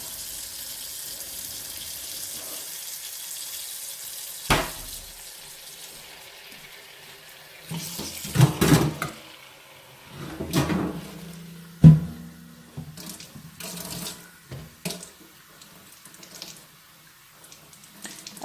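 Beans are rinsed under a running kitchen tap, a steady faint stream of water broken by louder splashes, clatters and sloshing bursts as they are handled.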